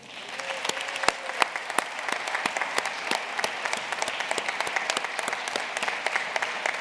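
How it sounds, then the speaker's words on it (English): Crowd at a doctoral commencement ceremony applauds graduates' families and friends, sustained hall clapping with sharp individual claps standing out near the microphone, steady throughout. "Please join me in a round of applause for these very important people"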